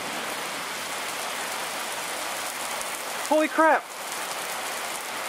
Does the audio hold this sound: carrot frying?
no